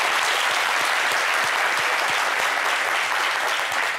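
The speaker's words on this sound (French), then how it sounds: "Applaudissez pour vous." Steady, dense applause from a studio audience at a French-language fashion television show, loud and continuous throughout with no voices over it.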